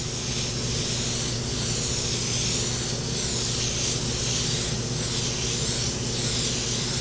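Airbrush spraying paint around the edges of a sunset and horse silhouette piece from about six inches away, a continuous close hiss of air and paint that barely changes, with no talking.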